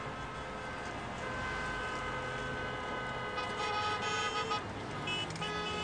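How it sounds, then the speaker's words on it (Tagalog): Car horns honking at a slow driver during an overtaking moment, sustained toots sounding over steady road noise, moderately loud. "Bakit naman sila busina ng busina?"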